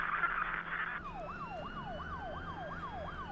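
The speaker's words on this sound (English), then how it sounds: "I hear the sirens." A steady high tone gives way to a video game siren in a short horror game that wails up and down in rapid repeated cycles, fairly loud, with no speech.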